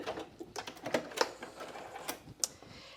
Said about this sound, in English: Okay, so I'm back stitching there.